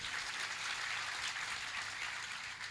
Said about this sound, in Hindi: तालियां बड़ी कमजोर हैं, बेइज्जती हो रही।